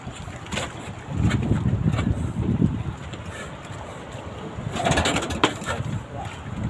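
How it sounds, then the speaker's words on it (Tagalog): A fishing boat's engine starts up outdoors on the water, a rough low rumble swelling in bursts with wind buffeting the microphone and faint bird calls around it. "pinapaandaran ni Pare Arnel ang kanyang makina."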